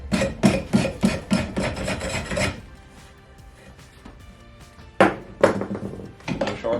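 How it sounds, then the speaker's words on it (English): Metal axe head being scraped during a restoration, a run of close rasping strokes in quick succession, then a quiet pause before a few more scraping passes resume. "Now I'm going to scrape it."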